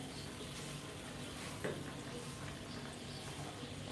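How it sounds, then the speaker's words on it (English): A pan of green peas curry sauce simmers with a soft, steady bubbling sizzle, faint and close, broken by one brief clink partway through. "Let us look at our sauce. It is currently simmering."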